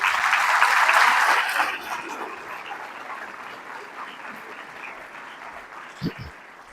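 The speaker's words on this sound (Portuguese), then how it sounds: "Vamos aplaudir o Senhor." A church congregation applauds during a revival prayer and fasting service, a broad wash of clapping that is loudest at first, then thins and fades, with a brief voice near the end.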